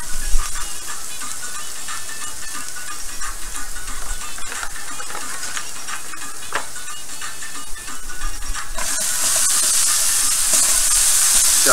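Chicken curry ingredients fry loudly in a pan, a dense, continuous sizzle and crackle that brightens and grows hissier near the end as onion goes in.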